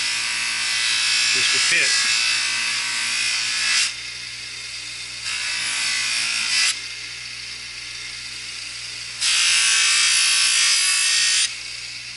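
A bench grinder's buffing wheel works a carbon steel knife blade in repeated bursts of bright, hissing whir, each lasting a few seconds with gaps between, while someone talks briefly near the start.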